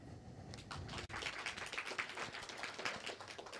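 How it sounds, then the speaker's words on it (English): An audience at a Python meetup claps for a few seconds, a fairly quiet, irregular patter of individual hand claps heard from a distance in the room. "Right, round of applause"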